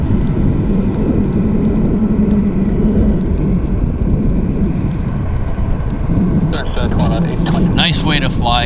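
A Boeing airliner on a wet Vancouver airport runway gives a steady, loud engine roar throughout, with a brief burst of radio chatter near the end.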